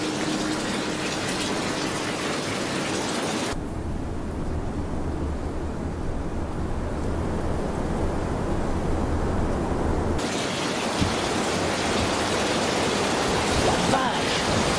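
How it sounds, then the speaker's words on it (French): Strong storm wind buffeting a microphone in February weather: a continuous loud roaring rush that shifts into a deeper rumble midway before returning to the broad hiss. "T'as un gros bruit de vent"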